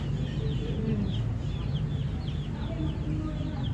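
Broiler and Rhode Island Red chicks in a store make a steady chorus of high peeping chirps over low background rumble, close and continuous.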